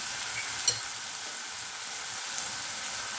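A steady, even sizzle of eggs frying in a pan, with one brief click early on and no voices.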